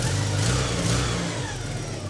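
A cold Porsche 944 race car engine running on four cylinders revs off idle and settles back down, a steady close mid-pitched engine roar that eases slightly toward the end.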